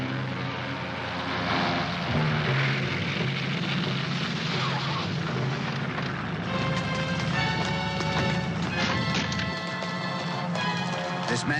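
A propeller airplane drones steadily nearby, a loud continuous engine hum with rattling overtones that persists throughout, mixed with some clattering movement.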